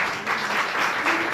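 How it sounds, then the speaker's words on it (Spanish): Audience applause at a Ganoderma product seminar in Murcia, a brief burst of many hands clapping steadily, fairly close and fairly loud. "Así que primero un aplauso para vosotros."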